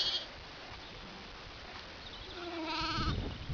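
Young lambs bleat in a garden at the edge of woodland. A few short, tonal cries come from fairly close, mostly toward the end, over a steady rustling outdoor background.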